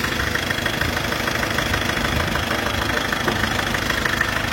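1994 Isuzu Panther engine running, a loud, continuous close-up diesel rumble with a steady knocking clatter and no break in the sound.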